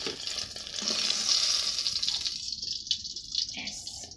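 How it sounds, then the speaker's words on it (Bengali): Eggs lightly frying in oil in a home village kitchen, a close hissing sizzle that fades and flares again, with some background voices. "ডিমগুলোকেও হালকা ভেজে নিলাম"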